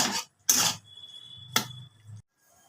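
Soy chunks are stirred in a cooking pan, giving three short scraping clatters of utensil against metal separated by brief pauses, close and moderately loud.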